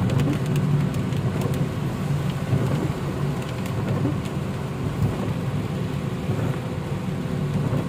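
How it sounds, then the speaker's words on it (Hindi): Heavy rain pounding a moving car on a road in Madina with a window open, a dense, continuous roar of drops over a low road rumble, loud and unbroken throughout. "बारिश है बहुत ज़्यादा तेज़ हो गई है"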